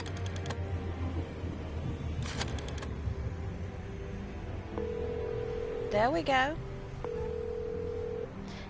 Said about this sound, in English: Boy, I bet some of y'all don't even know how to use a rotary phone.